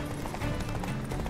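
Roach the horse gallops in The Witcher 3, a quick, steady run of muffled hoofbeats that rolls on continuously over low game ambience.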